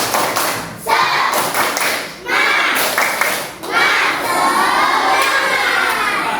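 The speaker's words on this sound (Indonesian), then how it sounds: "coba kita tepuk semangat dulu. Tepuk semangat." A school class does a rhythmic clapping chant called tepuk semangat, with bursts of group claps and children's chanting voices coming in waves with short pauses between.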